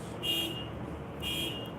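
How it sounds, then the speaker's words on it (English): Two short bursts of a high electronic tone from a neighbor's car alarm, roughly a second apart, sounding from a distance over low background rumble. "Neighbor's alarm going off."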